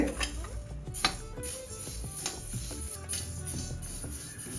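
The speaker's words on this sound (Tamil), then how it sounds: "உளுந்த போட்டு லேசாக வறுக்கலாம்" Urad dal dry roasting in a hot pan sounds like a spoon clinking and scraping against metal in irregular close taps over a soft background, with no clear speech.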